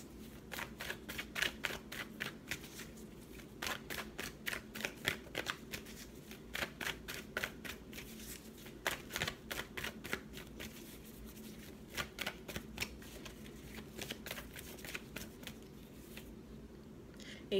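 Tarot cards are shuffled in quick, crisp riffles, bursts of dense flicking repeating steadily up close over a low background hum, with a brief pause near the end.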